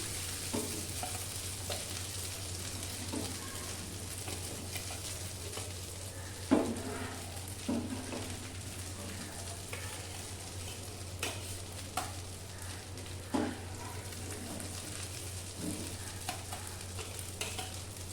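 Soft, steady sizzle of lentil patties frying in oil, with occasional scraping and clinking of a utensil stirring in the pan.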